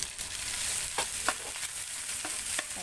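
Rice sizzles steadily in a lightly oiled hot pan while a utensil scrapes and stirs it in a few short strokes, close and fairly quiet.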